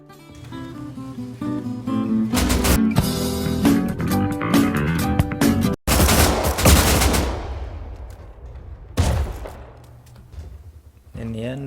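An MP5 submachine gun in the game Rust fires loud rapid bursts at close range, with sharp repeated shots and a heavy burst trailing into echoing decay, while talk and game sounds continue underneath.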